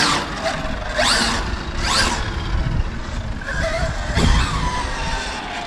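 FG SportsLine 4WD radio-controlled car running on a 12S setup, its motor whining in rising and falling passes that sweep near and away, with tyre skids over a steady rumble.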